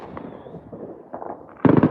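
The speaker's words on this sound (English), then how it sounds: "the fireworks are officially going off" New Year's Eve fireworks over Hill Country outside Austin, Texas: scattered distant pops and crackles, then a sudden loud cluster of rapid bangs near the end, heard without talk.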